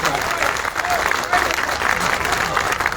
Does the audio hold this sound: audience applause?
yes